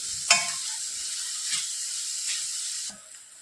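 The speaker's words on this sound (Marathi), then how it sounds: "आता गॅसच्या मध्यम आचेवर आपल्याला कांदा आणि टोमॅटो छान परतून घ्यायचे" Onion and tomato sauté in a pan over a medium flame, giving a steady close sizzle with a few brief stirring scrapes.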